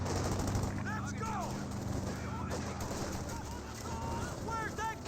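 In the Company of Heroes 2 video game, gunfire crackles and mortar rounds thud in a dense, continuous battle din, with rapid shots and whistling sounds layered over a constant rumble.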